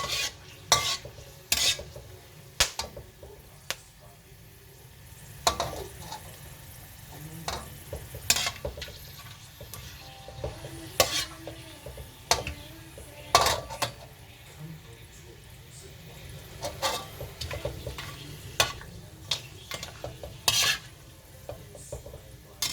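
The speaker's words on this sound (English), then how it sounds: "just be careful when you fry this because they actually pops from time to time" Chicken frying in a pan for homemade curry sizzles steadily, broken by frequent sharp pops and the clatter of a utensil against the pan, close and fairly loud throughout.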